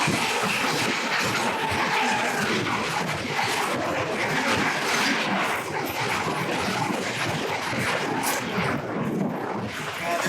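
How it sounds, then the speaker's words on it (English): A loud, steady train rumble with rattling metallic clatter on the Colombo to Hikkaduwa line fills the clip, close by and continuous without letting up. "there is a train coming towards me."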